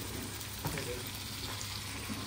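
Chicken pieces and potatoes frying in a pan, giving a faint, steady sizzle with light crackles and occasional small stirring taps.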